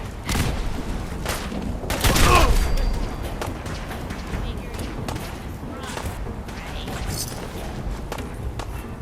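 Gunfire from the video game Fallout 4, a loud burst of shots peaking early over a constant busy battle din, with combat chatter running underneath.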